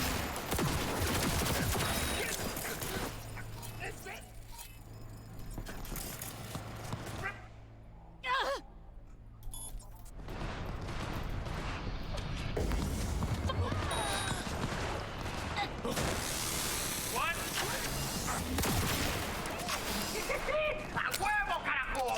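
Gunfire in the Cyberpunk 2077 video game, dense bursts of shots and crashing impacts with a brief lull midway, loud and chaotic, mixed with voices and gasps.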